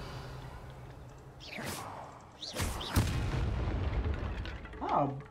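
In the Hogwarts Legacy video game, an explosion spell goes off in two sharp, loud bursts a moment apart, followed by a sustained rumbling roar, amid quieter in-game whooshing effects before and a brief vocal sound near the end.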